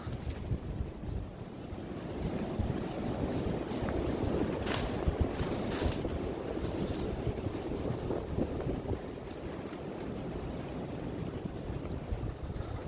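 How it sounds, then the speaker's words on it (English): Steady wind buffets the microphone outdoors among trees in Madeley, Telford, with a low, continuous rumble, gusting slightly stronger in the middle, with no voices. "Hear that wind, folks?"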